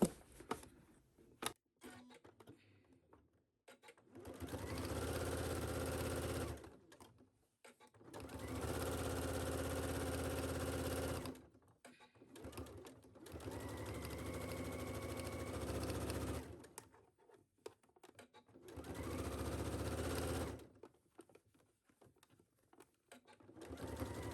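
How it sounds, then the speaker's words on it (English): A sewing machine understitches the facing of a wrap skirt's belt in four sustained bursts of steady stitching, separated by short pauses with small handling noises, close and clear. "I'm going to understitch the facing"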